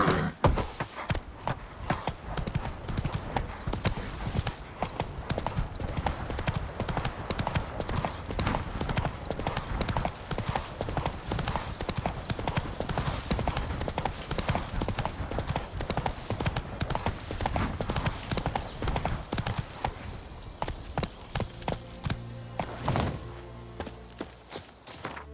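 Horse hooves clatter in a fast, steady clip-clop rhythm as Geralt rides through The Witcher 3, close and continuous before slowing toward the end, with a brief jingle of tack.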